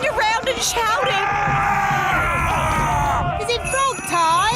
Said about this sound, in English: Running around and shouting.